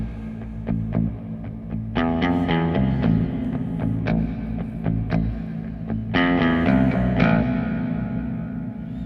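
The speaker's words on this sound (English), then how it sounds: "Okay, reverb. Listen to that one." Low, heavy baritone guitar chords and plucked notes, played through a Kemper Profiler's reverb, bloom into a big, lingering reverb tail that fills the space between strums.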